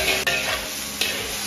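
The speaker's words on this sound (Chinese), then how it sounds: "最后加入葱段，再次翻炒均匀" Alligator snapping turtle meat and scallion pieces sizzle in a hot wok. Two short scraping tosses of a spatula cut through the steady frying noise.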